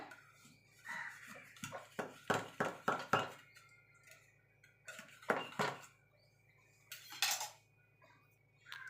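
A knife works around the sides of a cooled orange cake to loosen it from the pan, giving close, quick metallic scrapes and clicks in short bursts with quiet gaps between.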